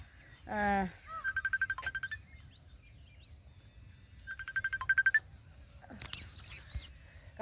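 A phone rings in two bursts of rapid, buzzy trilling pulses separated by a pause, heard fairly close over a quiet outdoor background with other faint chirps and clicks.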